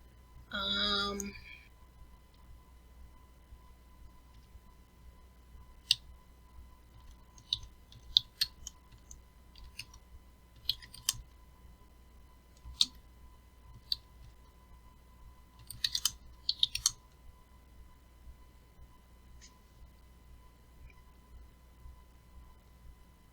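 Scattered light clicks of computer keyboard typing, sparse and quiet, arriving in short bursts with pauses between, after a brief voice at the start.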